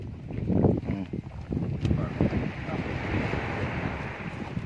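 Strong wind buffets a boat at sea, roaring and gusting loudly into the microphone with wave noise beneath, while voices talk over it.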